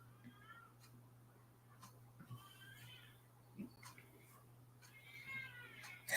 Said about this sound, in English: There's a baby crying outside. I thought it was one of my cats.